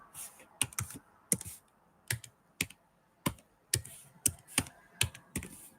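Typing on a computer keyboard: irregular clusters of crisp key clicks, close and fairly quiet, with short pauses between bursts.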